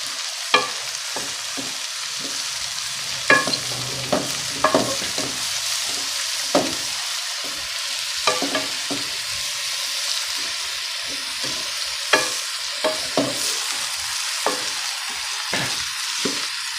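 Mixed vegetables fry for a homemade pickle, a continuous close sizzle with frequent clicking stirs and scrapes of a spoon against the pan throughout.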